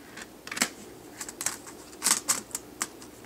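Fingers type on a netbook keyboard, producing irregular clusters of light plastic key clicks close by against quiet background hiss.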